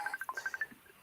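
A phone rings with an incoming Facebook Messenger video call: a quick run of about ten bright electronic beeps in a steady rhythm, close and moderately loud, with no one speaking.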